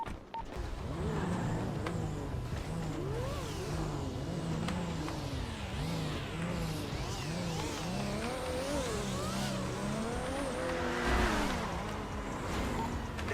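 Several cars in GTA V roleplay drive and rev together, engines rising and falling in overlapping loud sweeps, with no talk over them.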